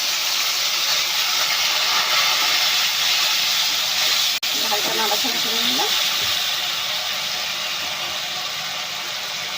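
A loud, steady sizzle of tomato paste frying in hot oil fills the clip, with a sharp clack and a brief voice midway.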